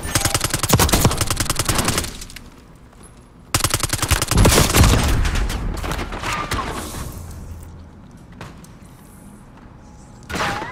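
Automatic gunfire in the Call of Duty video game, with loud rapid bursts of rattling shots broken by pauses, heavy impacts and a final short burst, close and harsh.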